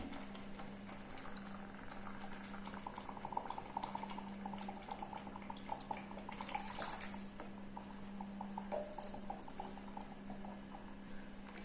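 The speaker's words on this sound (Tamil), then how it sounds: "ஜாரை கழுவி ஊற்றிக்கிறேன்." Water swirls and pours as a mixer jar is rinsed and emptied into a fish curry, a soft continuous trickling and sloshing with a steady low hum beneath, faint and close.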